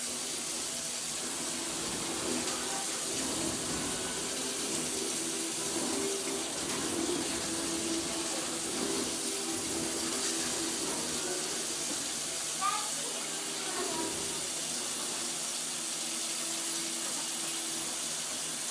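Water running steadily from a sink faucet as a dog named Tyson splashes and plays in it, a continuous hissing flow with occasional splashes while a person talks.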